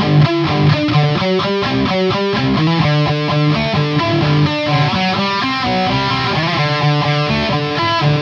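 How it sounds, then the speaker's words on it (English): An electric guitar driven by an electromagnetic sustainer gives controlled, distorted feedback tones, with loud held notes that shift pitch in a rhythmic pattern and ring on without fading, with no voices. "Sustainer systems are a great tool for creating predictable feedback effects, like those made popular in rock and heavy music."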